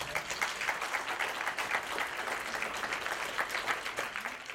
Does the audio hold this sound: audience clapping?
yes